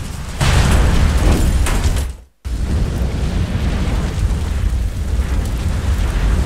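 Explosion in the video game Resident Evil Outbreak: a loud roaring blast that swells, cuts out briefly, then continues as a sustained rumbling roar.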